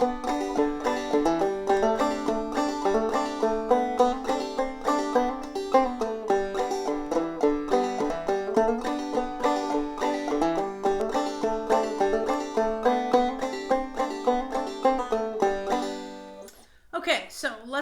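A clawhammer banjo plays the Tom Dooley melody with slides, hammer-ons and pull-offs: a bright, steady run of plucked and brushed notes, close and clear, that continues for about sixteen seconds before fading to a few scattered sounds.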